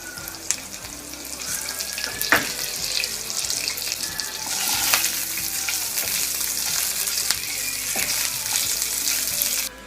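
Cumin seeds and curry leaves, with a green chili, sizzle steadily in hot oil in a home kitchen pan, a continuous crackling fry with a few sharp spits and pops and no talking.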